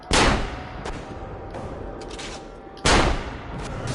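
Gunfire in Assassin's Creed Revelations comes as two loud, booming volleys about three seconds apart, each followed by a rumbling decay and scattered smaller cracks of battle.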